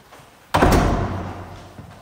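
A door shuts with one loud, close thud in the middle, then a lingering rumble fades away. There is no talking.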